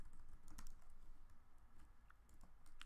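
Quiet, quick typing on a computer keyboard while entering a login in a Vue.js and Firebase authentication setup, with soft irregular key clicks close to the microphone and no talk.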